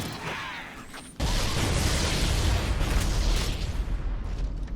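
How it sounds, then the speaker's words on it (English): A loud, sudden blast erupts in a Halo first-person shooter match, a broadband boom that rolls on for several seconds after a quieter buildup, with a sharp onset and a slow, rumbling decay. "Well, that was an explosion."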